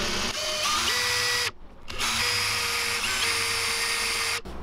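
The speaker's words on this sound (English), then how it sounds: "I need to break this habit of drilling in my hand" A cordless drill, used on a handheld swimbait, runs in two bursts, a high whine biting into material, with a brief pause between them and a quick stop at the end.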